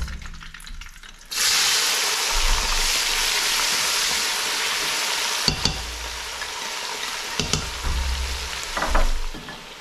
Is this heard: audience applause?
no